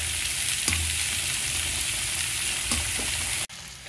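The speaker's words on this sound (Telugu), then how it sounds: "ఈ ఉల్లిపాయలు వేగేటప్పుడే" Sliced onions sizzle in hot oil in a pan alongside already-fried prawns, a steady close crackling hiss with a few soft clinks of a stirring spoon and a brief knock near the end.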